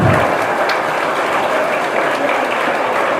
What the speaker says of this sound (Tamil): தலைவர் தளபதிக்கோசம் அந்த கைத்தட்டல்.